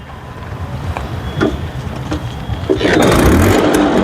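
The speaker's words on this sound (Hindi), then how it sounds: "देखिए एक किक में गाड़ी स्टार्ट हो गई" An old 25-year-old scooter is kick-started, a few rough thumps from the kick followed by the engine catching and running in a loud, steady outdoor putter.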